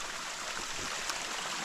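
Flowing stream at a water source crossing on the Appalachian Trail, a steady close rushing babble with no pauses, alone.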